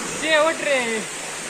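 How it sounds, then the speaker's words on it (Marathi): A waterfall roars as a steady broadband rush throughout, while a voice speaks briefly over it. "कसा आहे धबधबा"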